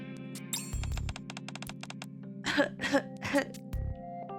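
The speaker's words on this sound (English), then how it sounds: "There is a cough in the room." Coughing in a room in a video game: three close, loud coughs midway, preceded by clicking taps, over a steady electronic hum.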